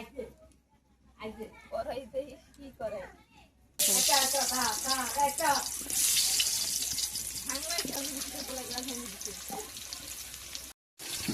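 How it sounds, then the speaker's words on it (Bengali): Pumpkin slices frying in hot oil on a clay stove in a small hut kitchen: a steady, bright sizzling hiss starts a few seconds in and runs on continuously beneath talking voices. "এখন কুমড়ো ভাজা হবে প্রথমে। এই দেখো চুলায় তেল গরম হচ্ছে।"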